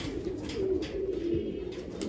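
Pigeons in a pigeon loft give low, rolling coos, a few close calls in quick succession over faint background noise.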